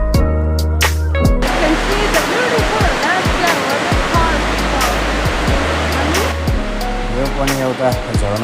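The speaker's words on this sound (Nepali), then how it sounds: "यो पनि एउटा झरना हो तर यो चाहिँ उपशाखा झरना हो" A tributary waterfall at Narchyang roars up close as a loud, continuous rush of falling water.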